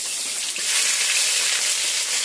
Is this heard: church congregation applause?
no